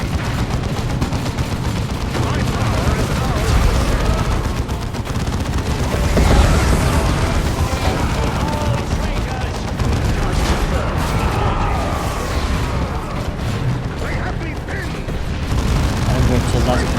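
Cannon and other battle fire rumble and boom in the real-time strategy game Dawn of War II: Chaos Rising, a dense, continuous barrage of blasts under talk.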